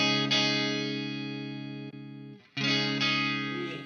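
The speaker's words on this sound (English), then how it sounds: "basically you can obtain very similar clean sounds." Clean electric guitar through a Marshall Studio Series amp: a strummed chord rings out and slowly fades, then a second chord is struck and sustains, loud and close with no talking.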